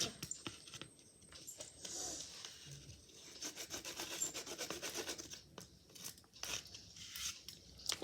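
Tent material being cut by hand, a close, rough rubbing and rasping with irregular scratchy strokes and small snips, fairly quiet and continuous, no one speaking.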